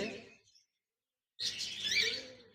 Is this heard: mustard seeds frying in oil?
no